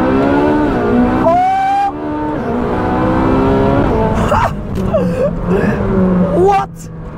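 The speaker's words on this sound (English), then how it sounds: "Naturally aspirated V8." A Ferrari 458 Speciale's naturally aspirated V8 revs hard toward 9,000 RPM, a loud rising engine wail with sharp climbs and gearshift breaks, heard up close from the cabin with a brief exclamation over it.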